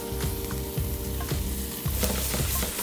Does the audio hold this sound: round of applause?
no